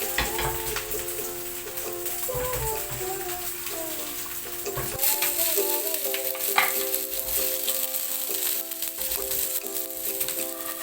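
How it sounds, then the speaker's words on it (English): Chili, garlic and onion frying together in a pan for Indonesian peanut sauce, a loud steady sizzle with occasional stirring rattles, close and continuous over a faint background tone, no talking. "So we will fry chili, garlic, and onion. Fry them all together."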